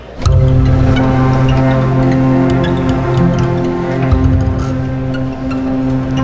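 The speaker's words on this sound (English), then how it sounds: "When you first load up the product, you're going to get our string long granular sounds" Spitfire Audio Polaris string long granular synth patch sustains a dense, steady tonal drone with layered harmonic bands and shimmering upper texture, continuous and loud throughout with no voices.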